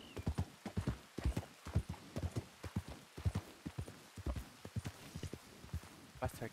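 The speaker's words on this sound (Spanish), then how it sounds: "De repente hay un caballo antes de entrar en Valentine." Hooves clip-clop in a steady walking rhythm as a horse approaches Valentine in a Western roleplay video game, the clear repeated hoofbeats moderately close, with people talking over them.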